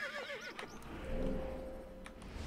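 A horse in the Assassin's Creed video game gives a short whinny, with brief game sounds around it and no talk.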